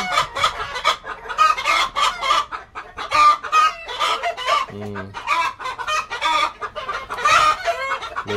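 Chickens cluck and squawk close by in a busy, irregular series of calls, with a brief lower crow-like cry midway and faint background noise.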